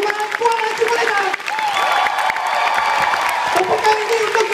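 Audience applause fills a hall at an Amway Diamond Recognition Night, a dense, steady wash of clapping mixed with cheers and shouting voices throughout.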